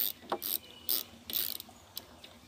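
Ratcheting clicks from a tool unscrewing the carburetor screws on a lawn mower come in short, close bursts, fairly quiet with brief pauses between turns.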